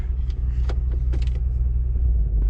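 A 2004-2008 Acura TL with a worn motor mount, idling in reverse, a steady low engine rumble with faint intermittent clicks and rattles on top, close by.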